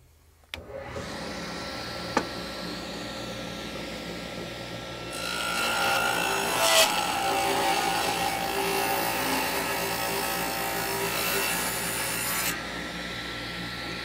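A woodworking machine grinding through wood to cut tenon cheeks, a steady loud rasping whir that grows harsher partway through and runs on continuously before easing back.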